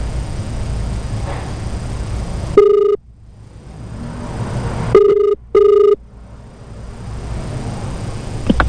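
Phone ringback tone while calling a delivery customer, three bursts of a steady electronic ring, the first alone, then a pair close together, each cutting cleanly to near silence, over low outdoor street rumble.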